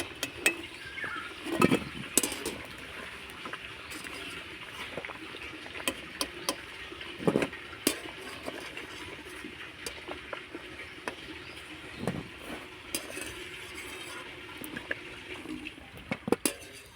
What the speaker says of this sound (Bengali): এবার আমি পেঁপেগুলোকে তুলে নেব জল ঝুরিয়ে